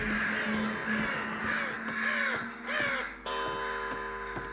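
Crows in the Underhell video game caw over and over in a steady, loud, close rhythm. Near the end the caws give way to a sustained ringing tone.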